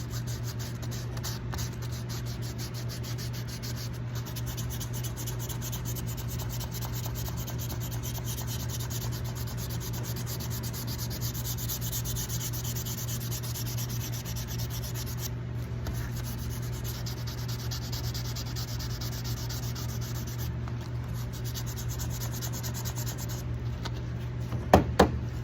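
Steady, continuous rubbing and scraping comes from hand sanding old varnish off a 100-year-old golf driver head. The close scratching runs without pause under a constant low hum, and a few sharp taps come at the very end.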